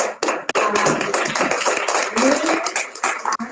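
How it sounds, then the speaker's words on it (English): Applause at a WEF gathering in San Antonio, Texas, a dense run of close claps filling the whole moment with voices mixed in underneath. "I just want to ask a round of applause for this lady"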